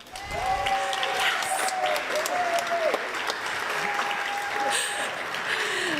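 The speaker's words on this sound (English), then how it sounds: "Now you may applaud." An audience at a music and poetry show applauds steadily, with full-room clapping and a few thin whistle-like tones riding over it, holding at an even level throughout.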